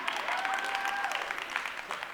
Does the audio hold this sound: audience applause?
yes